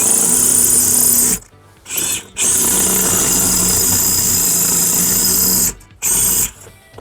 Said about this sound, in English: To drill the holes, I'm just gonna use a 532 drill.